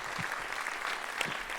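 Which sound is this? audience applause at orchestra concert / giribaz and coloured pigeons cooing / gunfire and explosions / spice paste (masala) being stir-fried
audience applause at orchestra concert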